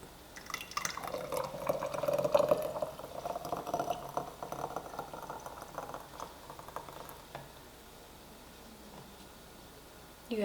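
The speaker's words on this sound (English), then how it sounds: "funnel, and I just pour it in there." Homemade barbecue sauce pouring through a funnel into a small pint jar, a thick liquid glug and trickle that builds over several seconds, then thins to drips and near quiet before a final bump.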